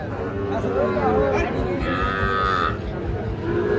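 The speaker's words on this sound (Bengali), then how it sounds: "শাহিওয়াল সার বাছুর।" A Sahiwal bull calf moos with a drawn-out, loud low call at a busy cattle market, set against steady crowd chatter and nearby voices throughout.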